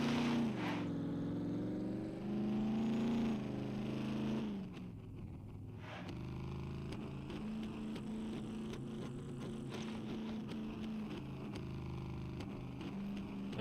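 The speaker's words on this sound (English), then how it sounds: "The Rager truck is pretty doggone loud." Rager truck engine driving in the SCUM survival game, a loud, steady droning motor that dips and shifts gear partway through, then keeps rumbling with faint clicks, no talking.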